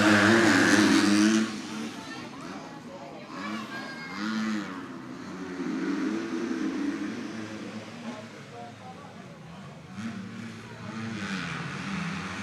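Motorcycles set off in a girls' race at a Cessnock Motorcycle Club meeting, engines revving and droning at a distance under a commentator's voice over the public address.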